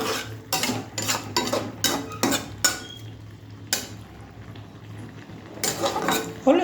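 Metal spoon scraping and clinking against a pan as leafy greens cook with tomato and a splash of water, a run of repeated quick strokes followed by a few sparse knocks and a closing burst of stirring.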